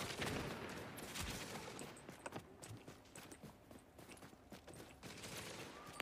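Sniper rifle gunfire in The Division, several sharp, loud cracks among a dense clatter of shots and mechanical noise, with no speech.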